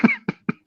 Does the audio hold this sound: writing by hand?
no